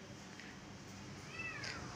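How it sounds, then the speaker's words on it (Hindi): A small kitten gives a short, thin meow or two, faint over a steady low background hum, with no talking. "और ये आ गया छोटा सा बिल्ली।"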